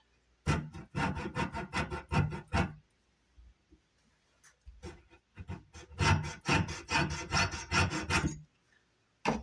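A wooden dowel held in a clamp is sawn by hand, cutting off a short piece. Close rasping strokes come in two quick rhythmic bursts separated by a brief pause, with no voices.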